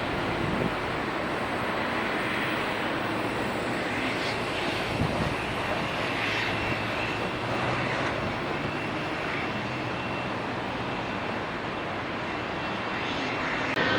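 A Southwest airliner landing on the runway at Dulles airport gives off a steady, broad jet roar that holds evenly from a moderate distance throughout, with no voices present.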